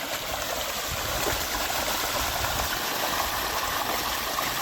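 Water gushes strongly and continuously, a dense loud rushing stream with no pauses or voices.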